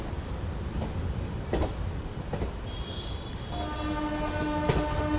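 India's first hydrogen train pulling out of Jind city, with a steady rolling rumble and a few rail clacks, then a loud sustained horn blast rising in the last seconds.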